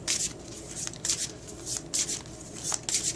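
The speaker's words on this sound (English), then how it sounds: "I'm just going to give the deck another quick shuffle just like this." Quick riffling and shuffling of a tarot card deck, a series of crisp papery bursts repeating at close range with no voices.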